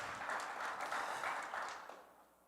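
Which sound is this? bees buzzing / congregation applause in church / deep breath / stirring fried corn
congregation applause in church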